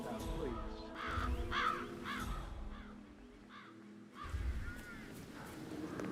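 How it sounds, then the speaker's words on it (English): Crows cawing in a few harsh, ragged calls at moderate distance, mixed with a speaking voice and other background sound. "I'll never get rid of those stupid birds."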